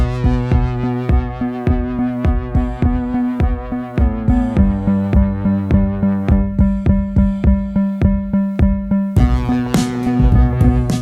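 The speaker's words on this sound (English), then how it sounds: "came up with a little like synthy-esque beat that sort of sounds like this" A synth-driven beat with steady pulsing drums and layered sustained synth chords, repeating in a loop at a moderate tempo, loud and up close.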